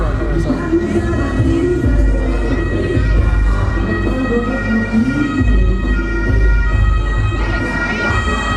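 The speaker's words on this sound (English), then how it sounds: "Yeah, there's an ambulance coming through." An ambulance siren wails as it moves through a stopped protest march in Germany, its rising and falling tone heard over crowd noise and traffic rumble, with voices murmuring nearby.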